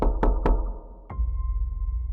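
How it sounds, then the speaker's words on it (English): Knocking on a house door during a snowstorm at night: two quick heavy knocks followed by a third, with a low room rumble and a faint sustained tone afterward. "Another knock follows, harder this time."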